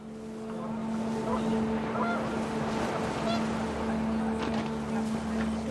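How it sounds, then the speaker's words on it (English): Panicked geese honk in the What Remains of Edith Finch video game, repeated fowl calls over a steady rushing wind and low rumbling background that continues throughout. "The wind picked up and panicked geese appeared and quickly went."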